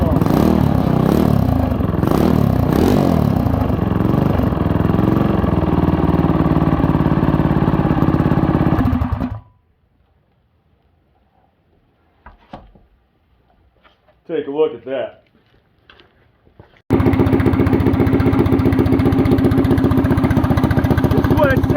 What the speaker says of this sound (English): This is what it sounds like without the Mini 91 on it